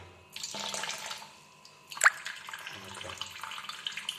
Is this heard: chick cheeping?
no